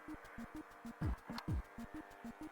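A Tosca AWS 303 radio's speaker gives a low, steady hum from a failing capacitor, with a regular pulsing beat, interrupted twice by short descending electronic sweeps.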